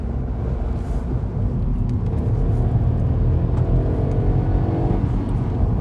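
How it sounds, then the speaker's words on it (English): Seat Ibiza hatchback driving, its engine a steady low rumble and whir from inside the car with a gradual rise in revs, continuous and fairly loud, with no talking. "This thing very comfortably revs up towards the higher end of the range, which I really like."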